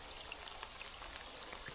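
Steady rain patters continuously during evening river trout fishing, a soft, even hiss of drops on water and surfaces with occasional brighter individual splashes, fairly faint and without voices.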